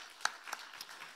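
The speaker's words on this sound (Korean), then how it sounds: "박수하겠습니다." A church congregation at a Sunday morning worship service gives faint, sparse applause: a handful of distinct claps, scattered and distant in a quiet room.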